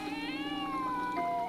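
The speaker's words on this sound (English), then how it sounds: "That lady brought her cat." A cat meowing in an animated show scene, one drawn-out, wavering meow that rises and falls, moderately loud and alone without talk.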